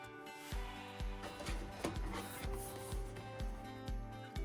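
A craft cutting machine running with a mat loaded, cutting a label for a pantry container, giving a regular series of mechanical thumps and whirring movements at close range.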